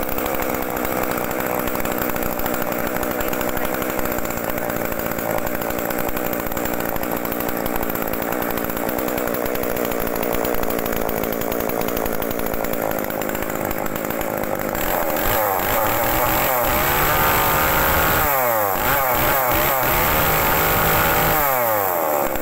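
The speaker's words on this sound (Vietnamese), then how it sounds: "mình quay vô mình test cái cưa đầu tiên là cái Echo 3000 tay dài nha" Echo 3000 long-handle chainsaw running steadily and loud, engine holding a continuous buzzing drone, then revving up and down in several sweeping bursts toward the end; no talking.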